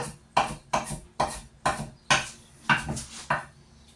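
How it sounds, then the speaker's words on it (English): Fresh herbs finely chopped with a knife on a wooden board for a summer pasta, seven crisp, evenly spaced chops close up, with no talking. "So you're going to finely chop that down."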